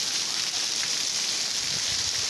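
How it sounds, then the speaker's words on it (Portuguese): Heavy rain pouring in Macaraní, Bahia, a dense, constant broadband hiss with no pauses or talk. "muita chuva em Macaraní"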